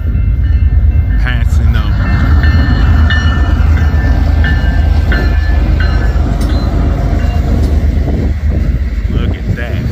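A westbound local freight train rolling past close by, a loud continuous rumble with clanking cars and wind buffeting the microphone, while someone talks over it.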